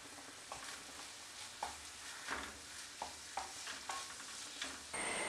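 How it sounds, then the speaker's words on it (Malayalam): Chicken mixture stirred in a covered pan for crispy chicken balls: steady sizzling with a series of scraping spoon strokes at regular intervals, close and clear, no talking. "ഇനി നമുക്ക് ഒന്ന് തുറന്ന് നോക്കി ഇളക്കി കൊടുക്കാം"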